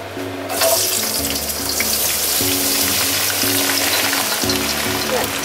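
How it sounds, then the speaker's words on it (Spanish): Broad beans fry in hot oil with a loud, dense sizzle that bursts up as they hit the pan, then crackles steadily and close throughout. "Ahora ya echamos la haba."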